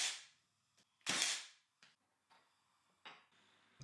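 A pin nailer drives pins into glued wooden pieces on the inside of table legs, giving several sharp, separate pops at irregular intervals, close by and with no talking.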